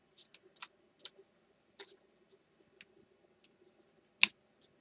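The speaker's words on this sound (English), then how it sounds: "Same cards, and I'm shuffling like a maniac here." A deck of tarot cards is handled and shuffled, producing sparse, crisp taps and snaps at irregular intervals, with one louder, sharp snap near the end and no talking.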